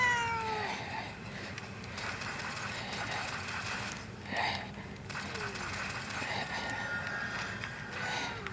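A pet cat sitting on someone's lap gives several short meows over a low, steady background hum, with a brief clicking rattle mixed in.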